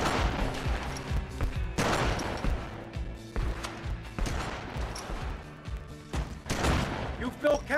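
Gunfire at a shooting range in GTA Vice City: repeated bursts of rapid shots in several loud clusters, with game dialogue and background sound between them.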